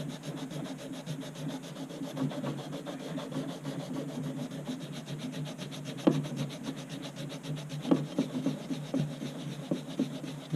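A rust eraser scrubs rust and grime off an old hatchet head in steady, close back-and-forth rubbing, with a couple of sharper scraping strokes standing out near the end.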